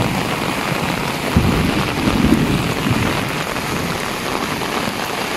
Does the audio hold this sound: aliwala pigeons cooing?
no